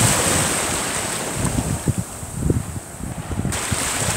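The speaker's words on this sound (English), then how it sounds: "I like the waves. See, there's a wave. There's waves." Ocean waves wash onto a beach in steady broadband surf, with wind buffeting the microphone and a few soft thumps and rustles close by; no one speaks.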